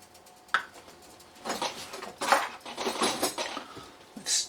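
Pancake batter rattling inside a plastic shaker bottle, shaken by hand in a kitchen in several uneven bursts of sloshing and clattering, close to the microphone with no talking.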